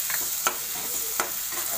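Tomatoes are stirred into frying paneer bhurji masala, giving a constant bright sizzle close by with two distinct scrapes of the spoon.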